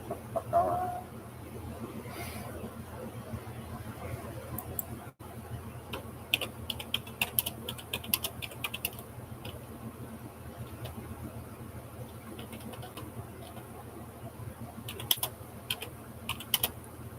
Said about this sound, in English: It's me trying to get typing again like I used to.